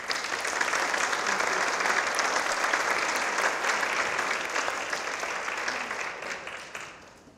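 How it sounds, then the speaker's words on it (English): Sustained applause from a breakfast audience at an International Women's Day event for a keynote speaker, dense and fairly loud throughout before tapering off at the end. "give Megan another round of applause"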